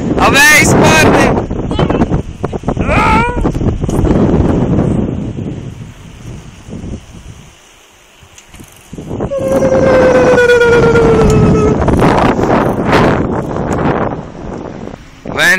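Heavy wind buffets the microphone outdoors in Ventspils, a loud roaring rumble that swells and dips, mixed with shouting voices and a passing train sounding its horn.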